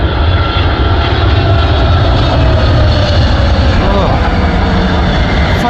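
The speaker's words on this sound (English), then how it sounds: "Firm landing." An Atlas Air Boeing 777 landing firmly in windy weather on runway 15 at Anchorage gives a loud, close, continuous jet engine roar that holds steady throughout.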